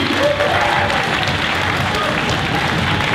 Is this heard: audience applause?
yes